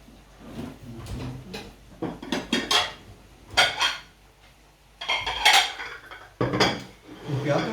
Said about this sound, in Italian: Allora, prepariamo i piatti.